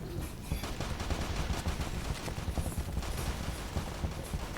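Pistol fire in the Roblox shooter Aimblox, with rapid bursts of close, sharp shots crackling throughout over a dense, busy game background.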